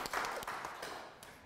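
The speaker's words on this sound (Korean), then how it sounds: "어찌됐든 박수 한번 쳐주겠습니다." Audience applause at a lecture hall class, a brief dense patter of many hands clapping, fairly steady and fading slightly toward the end.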